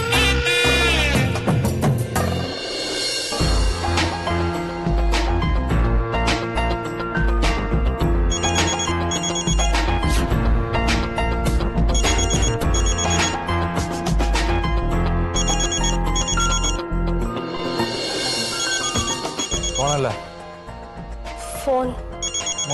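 A telephone ringing indoors, repeated bursts of ringing heard over music and background sound, with talking mixed in throughout.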